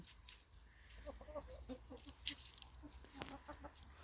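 Soft, quiet clucking from a few hens comes in short repeated bursts, with a sharp chirp partway through.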